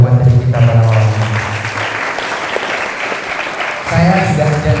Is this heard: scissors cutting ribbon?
no